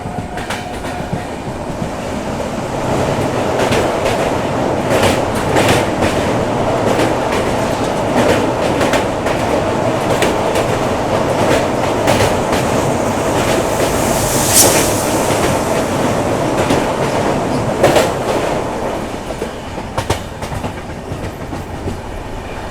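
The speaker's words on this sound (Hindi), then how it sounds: "सामने से आने वाली train number 22490 Vande Bharat express, Meerut city junction Lucknow Charbagh Vande Bharat 22490 अभी कुछ ही देर में सामने आने वाली है" The Vande Bharat Express, train 22490 from Meerut City to Lucknow Charbagh, rumbles past at close range with a long, loud roar and rhythmic clickety-clack of wheels over rail joints, plus a brief sharp squeal midway.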